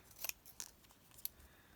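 Scissors snipping through planner paper, three or four quick, crisp cuts close by and faint, spaced unevenly within a couple of seconds, with no talking.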